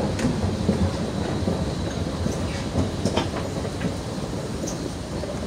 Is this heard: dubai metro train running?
yes